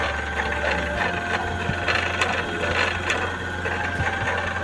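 A Toyo Singer sewing machine running, with a steady mechanical whir and rapid rhythmic needle clatter, close and continuous with small changes in speed.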